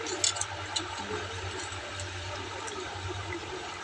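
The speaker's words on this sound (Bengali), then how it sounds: "আলুটাকে ধুচ্ছি" Potatoes are washed under running tap water in a home kitchen, giving a steady, continuous rush of water with a few splashy bursts near the start, with no talking over it.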